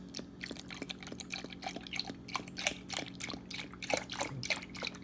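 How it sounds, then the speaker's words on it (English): Milk being poured into pancake batter in a home kitchen, a faint, close trickle with a rapid run of small liquid drips and splashes, quiet and steady. "I'm pouring in my milk that I have."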